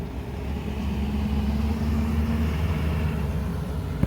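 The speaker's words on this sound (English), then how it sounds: "Traffic's nice though, huh?" Road traffic rumbles past near a gold-panning site, a steady low engine drone that holds at a constant, fairly loud level without breaks.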